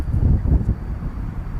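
Wind gusting across an outdoor soccer field at night, a steady low rumble with buffeting bursts in the first half, no voices.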